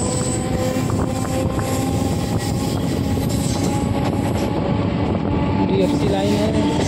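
A train runs along the railway line near Mirzapur in Uttar Pradesh, a steady rumbling clatter of wheels on track with faint squeals, loud and continuous throughout.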